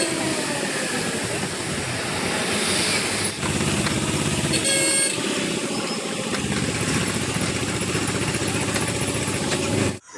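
The Down Matara Express train rumbles steadily at a railway station near Tarapith, a continuous close roar of wheels and carriages with brief higher screeches partway through.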